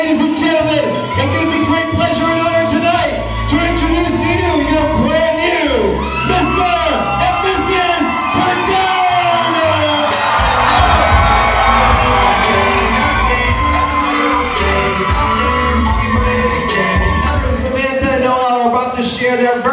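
Wedding guests at a reception cheer, whoop and shout loudly together, a sustained roar of crowd noise with rising yells and scattered bangs, while a voice talks over the din.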